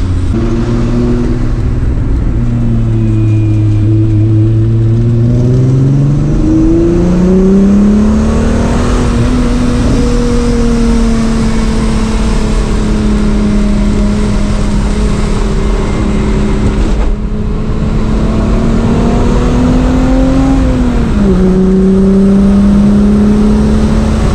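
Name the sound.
MK3 Jetta car driving into a corner test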